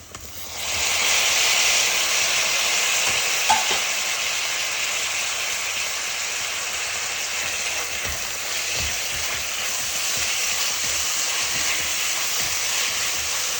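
Chopped onion frying to golden brown in a pan for methi chicken, a continuous dense sizzling hiss that stays close and steady throughout with no talk.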